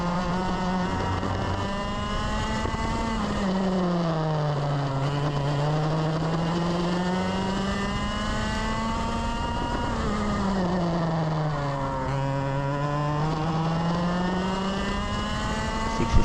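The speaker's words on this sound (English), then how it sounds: "Just being nice and smooth on the throttle," Race car on track at Ipswich, heard from onboard: a loud, sustained engine note that rises and falls repeatedly through gear changes and corners, running steadily for the whole stretch with no voices over it.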